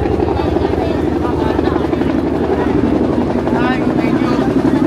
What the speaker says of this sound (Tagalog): Ay na helicopter oh.